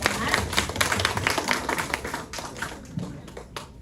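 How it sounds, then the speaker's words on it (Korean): A church congregation breaks into sustained applause, with many close, dense, crisp claps that carry on for several seconds before thinning out. "저희 다시 한번 큰 박수로 하나님께 영광 돌리겠습니다."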